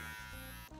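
Electric hair clippers fitted with a half guard buzz through a skin fade, a short close mechanical drone with slight shifts in pitch as the blade works.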